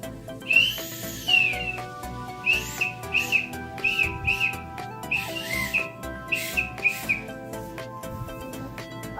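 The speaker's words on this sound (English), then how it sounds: "Now let's try the whistle." A toy whistle from an outdoor explorer kit blown in a series of about a dozen short, shrill, warbling toots with brief gaps between them, fairly close and clear with no talking.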